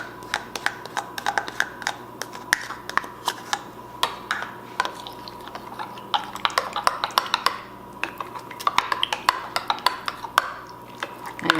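A spoon stirs a rhubarb, strawberry and applesauce popsicle mixture in a bowl, giving a steady run of close clinks and scrapes without talk.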